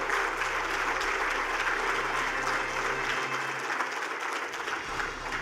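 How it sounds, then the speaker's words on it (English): Sustained audience applause fills a conference hall at an investors meet session, dense and steady throughout with a faint low hum beneath, easing slightly near the end. "can we hear it in your applause?"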